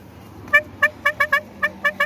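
A car horn honks in a rapid string of about eight short, bright toots on a road with drifting vehicles and bicycles, sounding fairly close and rising above a low background hum.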